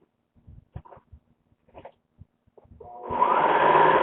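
A sewing machine stitching a knit top starts up after a few scattered handling taps and runs steadily and fairly loud for the last second or so.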